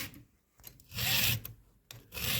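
Rasping strokes of a file sharpening chainsaw chain teeth during routine maintenance, three long bursts of scraping separated by short pauses, close and fairly loud with no talking.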